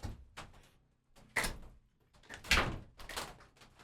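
A door bangs shut in a room with people around, landing as a few sharp thumps between quieter knocks and shuffling.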